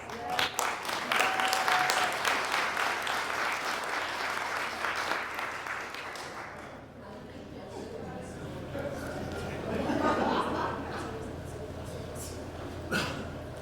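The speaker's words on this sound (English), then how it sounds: "let's give them all a big round of applause" A big round of applause from the audience at a police department history program honors the new board, loud clapping that fades after about seven seconds, followed by faint talk and scattered claps.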